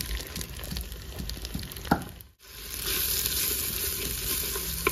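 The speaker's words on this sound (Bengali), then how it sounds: "দিয়ে দেবো কেটে রাখা পেঁয়াজ।" Chopped onion dropped into hot oil with bay leaves, whole cumin and black peppercorns in a clay pot for a mutton curry: a brief lull, then a steady, close, bright sizzle that keeps going.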